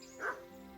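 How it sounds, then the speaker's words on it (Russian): A dog barks once in the medieval role-playing game Kingdom Come: Deliverance, a single short, faint bow-wow over a quiet ambient hum. "Ой, собаки."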